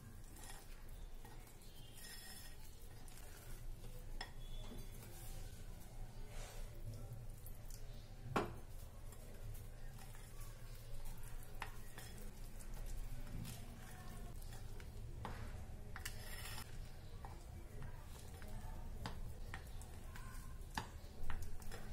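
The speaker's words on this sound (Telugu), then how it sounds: "దీనిలో 3/4 కప్ పాలను కొంచెం కొంచెం యాడ్ చేసుకుంటూ కలుపుకోవాలి." Eggless coffee cake batter stirred in a bowl while milk is added a little at a time, quiet irregular ticking and scraping of a spoon against the bowl over a low steady background hum.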